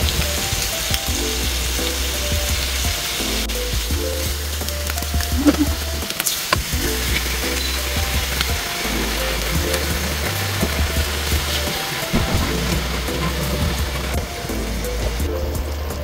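Pork liempo sizzles on a grill in a dense, continuous crackle and spit, with a faint clatter partway through as pieces are shifted.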